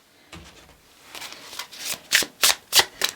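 A deck of oracle cards is shuffled by hand, starting with soft riffles and building to several loud, crisp bursts near the microphone, with no talking.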